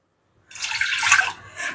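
A tumbler of water is poured onto washed rice in a pressure cooker. The close, splashy pour lasts about a second, then a brief second trickle follows.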